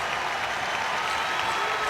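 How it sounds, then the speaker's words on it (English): Nottingham Panthers fans at an ice hockey Challenge Cup semi-final against Newcastle Vipers, a sustained roar of cheering and clapping from a large arena crowd, steady and full. "The Panthers fans cheer."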